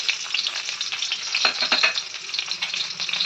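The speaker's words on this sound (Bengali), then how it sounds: "অল্প করে পেঁয়াজ ভাজতে দিচ্ছি" Onions frying in a pan with nigella seeds and dried chillies, a close, dense crackling sizzle that holds steady throughout with lively bursts of spattering.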